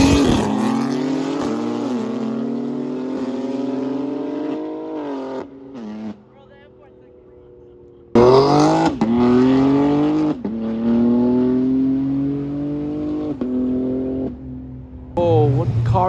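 A nearby car engine revs loudly in long, rising pulls, drops away briefly, then roars again and fades out.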